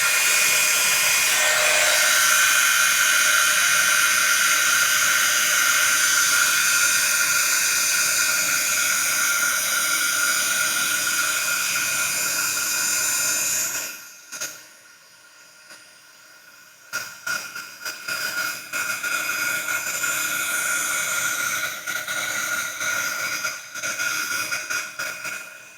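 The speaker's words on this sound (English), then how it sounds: "So I'm gonna take out my heat tool. And sorry, I'm gonna make some noise. But I'm gonna melt this." A handheld heat tool blows hot air to melt embossing powder on a vintage birthday card, a loud steady whooshing hiss that cuts out midway, then restarts in a few uneven bursts.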